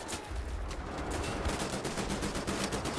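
Rapid gunfire in Wolfenstein: The New Order, a dense run of repeated sharp bursts in quick rhythm, like automatic fire, continuing across the whole stretch.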